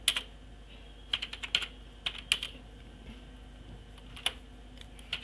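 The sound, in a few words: typing an email on a computer keyboard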